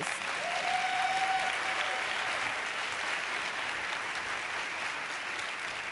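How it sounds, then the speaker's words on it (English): Sustained applause from a large audience, a steady wash of clapping that holds at an even level throughout. "Please join me in giving them a final round of applause."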